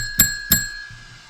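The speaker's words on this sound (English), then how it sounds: "Bell ring." Two bright, ringing bell strikes land close together, each leaving a short metallic tone, followed by a faint low rustle.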